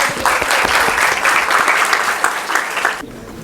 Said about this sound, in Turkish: Basket Bey'e kocaman bir alkış alalım.